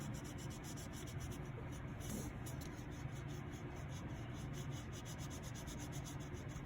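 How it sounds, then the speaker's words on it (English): Crayon rubbed back and forth across dry painted paper, a soft, continuous scratchy friction heard up close and alone, steady throughout. "I can come up with different values if I want with a crayon."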